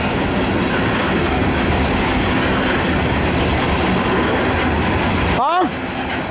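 A CSX westbound loaded coal train with helper locomotives rolls past, a steady loud broadband rumble of wheels and rail noise filling the whole clip, with a brief squeal near the end.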